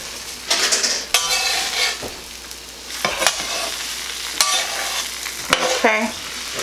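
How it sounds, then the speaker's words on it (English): Eggs frying in grease on a flat griddle for a country breakfast, with a crackling sizzle and several sharp scrapes and taps of a metal spatula against the cooking surface, close and loud. "I'm trying to cook it so the cooked egg will stop the wet egg."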